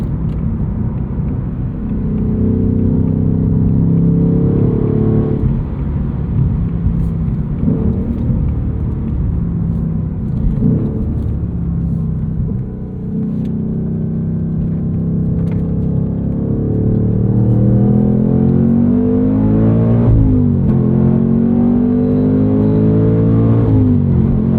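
A 2024 Ford Mustang Dark Horse with its 500 hp engine and 6-speed manual pulls hard with a deep, loud exhaust rumble, rising in revs, dipping briefly at shifts, then climbing again through the gears.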